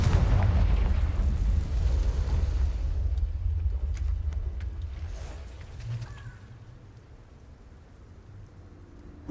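A Confringo fire spell blast in the Hogwarts Legacy video game, heard as a loud, heavy boom with a long rumbling decay that fades over several seconds near an Acromantula cave, with no talk.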